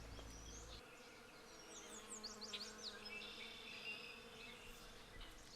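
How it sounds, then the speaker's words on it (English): Bees swarm through trees in a garden with a steady, low, vibrating hum, joined by buzzing flies and bird chirps high above, with no talking. "You can hear like a low vibrational humming in a sense, and those are all the bees on the trees"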